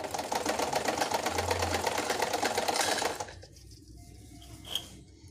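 A sewing machine stitches lace onto a chunni in a steady rapid whir for about three seconds, then stops, leaving faint handling noises.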